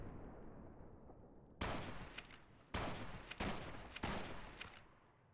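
Gunshots aimed at a robot in Fallout New Vegas, fired as four sharp, loud bursts spaced roughly a second apart, each with a short ringing tail, following a quiet stretch of faint background hum.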